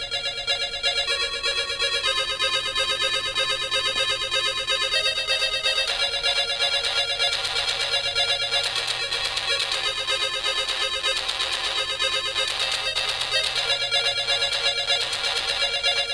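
Chiptune song from a Mockingboard 4c sound card on an Apple IIc, played through tiny speakers: bright square-wave melody lines and buzzy arpeggios with almost no bass, steady and continuous throughout.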